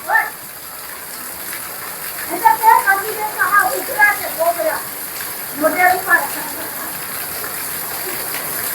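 Heavy monsoon downpour, a constant dense hiss of rain under several short stretches of people talking.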